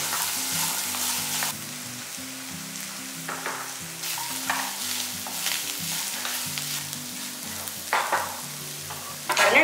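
Green peas sautéing in a pan with ghee for ghee rice, a loud continuous sizzle broken by irregular scraping strokes of a spatula, close up and without speech.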